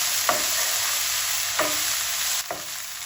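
Onion and okra fry in a frying pan with salt and chili. A close, steady sizzle is broken by three sharp scrapes of stirring, with no voices.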